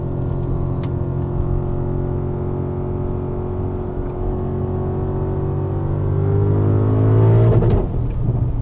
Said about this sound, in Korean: 방금 소리 들으셨죠? 풀 스로틀 밟는 거.